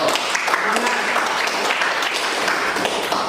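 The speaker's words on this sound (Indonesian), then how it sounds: "Iya, beri aplaus kepada teman kita Aida." Classroom applause for a classmate, a steady patter of many hands clapping together for a few seconds with students' voices mixed in.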